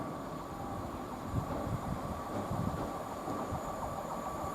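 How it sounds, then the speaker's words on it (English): A Freightliner freight train on the Wentloog to London Gateway run, hauled by class 66 locomotive 66549, rumbles steadily past Goring & Streatley on the Great Western Main Line, a continuous low roar with faint high squeal. "Freightliner train of the day."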